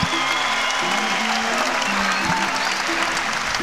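Volleyball fans in an arena applaud the 2009 WAC champion Rainbow Wahine volleyball team with steady, dense clapping. Crowd noise and a few voices run underneath at an even, sustained level.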